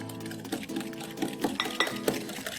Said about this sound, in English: Now we put half the quantity of milk and half our chocolate mixture and whisk it.